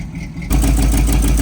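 A barn-find square body truck's engine drops to idle after a quieter moment, then settles into a loud, steady low rumble close by.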